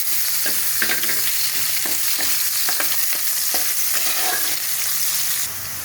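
Chopped onions sizzling steadily in hot oil in a pan, with frequent stirring scrapes and clatters over the continuous frying hiss.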